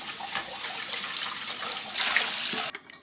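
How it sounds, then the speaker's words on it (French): A Tineco Floor One S3 cordless floor washer runs its self-cleaning cycle, a steady close rush of flowing water that holds for nearly three seconds before cutting off abruptly into brief faint clatter. "C'est simplement le cycle auto-nettoyage."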